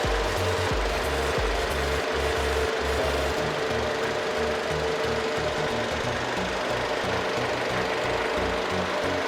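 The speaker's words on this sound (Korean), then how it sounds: "엔진 소리 일정하고 좋습니다" A Jeep Cherokee (KL) 2.4 Longitude AWD engine runs steadily at idle, with an even mechanical chugging and a constant whirring hum that never changes. No one speaks.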